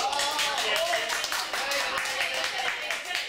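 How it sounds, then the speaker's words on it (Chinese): Audience applause at a live stage show for young performers, a dense patter of many hands clapping steadily and loudly throughout with no clear break. "掌声鼓励，谢谢"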